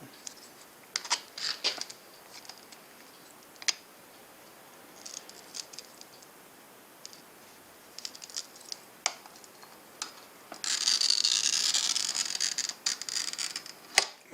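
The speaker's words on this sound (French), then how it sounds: "J'ai un petit outil à découper le verre." A glass cutter scratches and taps against glass in short bursts, then a longer steady scoring hiss near the end, close up, without speech.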